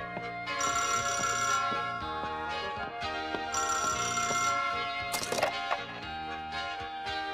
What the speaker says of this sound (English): can't get anything done with the phone ringing all the time.